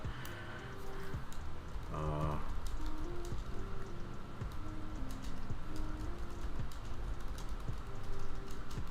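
Rapid, continuous clicking of typing on a computer keyboard runs throughout at close range, steady and fairly quiet, with a brief tonal sound near the start.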